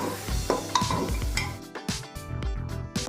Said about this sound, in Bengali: ডালটা এবার ভাজতে হবে সব মশলাপাতি টমেটো পেঁয়াজ এগুলোর সাথে